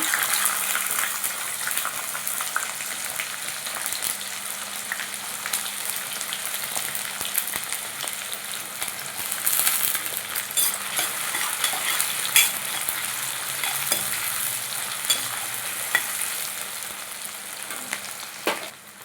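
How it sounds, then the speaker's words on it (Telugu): Onions frying in hot oil with dried red chillies for a gongura and dried shrimp curry, a steady close sizzle that holds throughout with light stirring crackles and no talk. "కొంచెం వేగిన తర్వాత ఉల్లిపాయలు అయితే వేస్తున్నాను"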